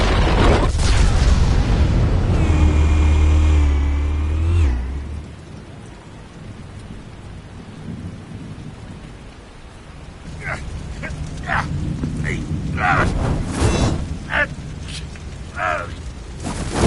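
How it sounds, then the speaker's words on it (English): Heavy rumbling blasts from explosives set off in a Batman video game fight, a loud sustained boom for the first few seconds giving way to quieter crackling debris and scattered impacts, with a voice speaking in between. "Explosives armed. Fire when ready."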